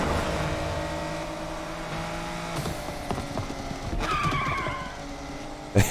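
Dodge Hellcat Charger in the racing game NFS Unbound roars past with a tire squeal, its engine note sustained and loud, then cut by a couple of sharp thumps near the end.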